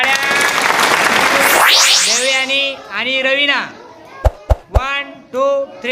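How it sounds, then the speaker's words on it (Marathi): A group applauds the winner of a maths ladder game, with a burst of clapping at the start, then a voice speaking and a few sharp separate claps. "पूर्वीसाठी टाळ्या।"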